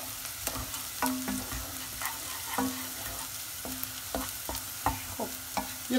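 Ingredients are sautéed with mint in a pan for a traditional Azerbaijani dish, a soft continuous sizzle broken by regular scraping stirs of a utensil against the pan, close and without voices.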